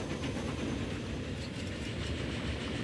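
Trains running on a mountain pass line in Transport Fever, a steady rumbling roll of rail cars with a faint clickety-clack, continuous and close, no talk.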